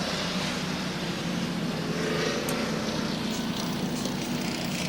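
Stock race cars on the track at the Thompson World Series in 1996 roar in a dense, continuous engine drone that stays loud and steady throughout, with no one speaking over it.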